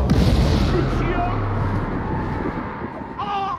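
A Confringo blasting curse goes off in the game Hogwarts Legacy, a loud, heavy explosive boom that rumbles and slowly fades, mixed with game effects and a voice.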